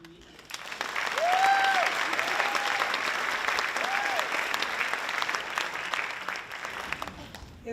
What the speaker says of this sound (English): Please put your hands together for Tiffanie Needham.